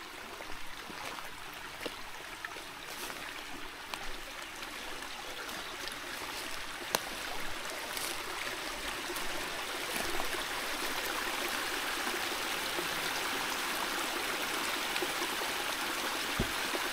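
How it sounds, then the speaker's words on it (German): A babbling brook in the Taunus hills along the Limes trail, swollen by recent rain, bubbling and splashing continuously nearby, a steady dense wash of water with no voices. "Ich nehme euch gerade mal ein Stück mit, weil es plätschert hier fantastisch"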